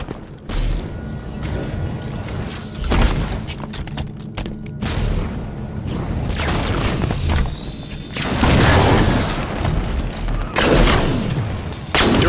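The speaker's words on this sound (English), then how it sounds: "Grenade incoming." Grenade blast in the video game Halo 5, heard among dense gunfire and booms: several loud thumps and bursts of shooting over about twelve seconds, with no clean single explosion standing apart.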